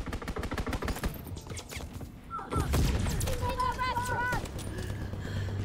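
Flak guns firing in a Call of Duty multiplayer match, a rapid burst of gunfire in the opening seconds that gives way to louder booming and game announcer chatter with voices talking over it.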